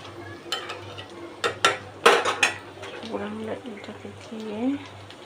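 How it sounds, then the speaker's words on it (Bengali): A utensil stirs a cabbage and egg fry in a pan, with several loud metallic clanks and scrapes early on, then softer stirring while a voice murmurs in the background. "আমি চারপাশে এটাকে ভালোভাবে নাড়াচাড়া করে নিব।"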